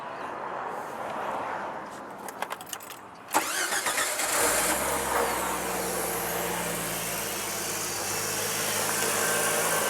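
A car engine cranks with a UIBI S600 jump starter while the battery is disconnected, then catches and settles into a steady idle, loud and close.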